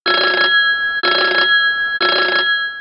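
A telephone rings three times in a clean, loud, evenly spaced pattern, each ring about half a second long with brief silence between, and no other sounds around it.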